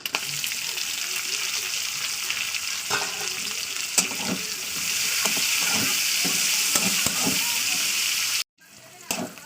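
Onions sizzle steadily in hot mustard oil with cumin while a utensil stirs and scrapes the pan, then the sizzle briefly cuts off near the end.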